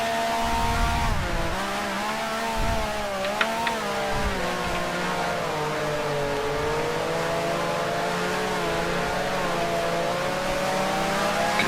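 A 1965 race car in the video game Grand Prix Legends at the Cape South Easter Trophy, its engine howling steadily with rising and falling pitch as it slides and brakes, loud and continuous with no talking.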